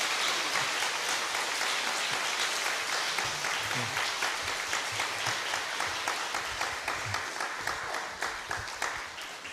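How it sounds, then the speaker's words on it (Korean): A church congregation at a Korean Sunday worship service applauds steadily, the dense clapping filling the room from start to finish with faint voices underneath. "박수 한번 할까요?"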